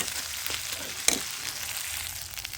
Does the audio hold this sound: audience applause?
no